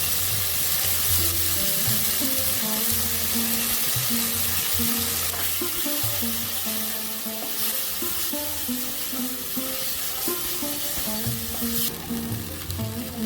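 Spice paste and tomato frying in a pan, a loud close sizzle with a steady rhythm of stirring scrapes and clinks throughout.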